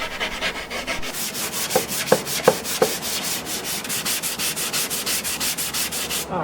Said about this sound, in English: So I did most of the sanding outdoor.